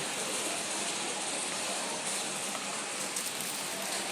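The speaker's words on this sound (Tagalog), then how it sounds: "ang lakas ng ulan." Heavy rain pours steadily, a dense, even hiss of drops drumming on surfaces, with no voices heard.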